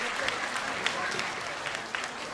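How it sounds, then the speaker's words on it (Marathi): An audience at a pre-school annual day opening ceremony applauds in a steady, moderately faint wash of clapping, with no voices on top. "सर्वांनी जोरदार टाळ्या वाजवा."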